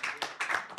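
Brief applause from participants at a university copyright and authorship workshop, a few claps close together that last under a second.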